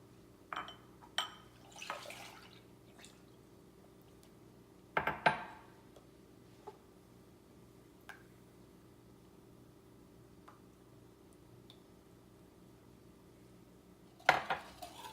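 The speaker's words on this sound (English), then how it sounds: "In a mixing bowl, you are going to want to combine all of the ingredients except for the cookies." Ice cream ingredients being combined in a mixing bowl: scattered clinks and scrapes of a utensil against the bowl and a few pouring sounds, separated by quiet gaps, with no talk.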